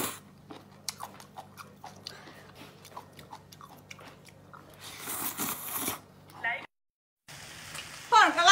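Cold jellyfish salad is bitten and chewed with crisp crunches, close to the mouth, repeating in uneven bursts, with a voice talking over parts of it.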